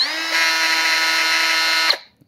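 A Milwaukee cordless cut-off tool runs with a loud, high, shrill whine that holds steady for nearly two seconds, then cuts off sharply as the motor brakes and spins down.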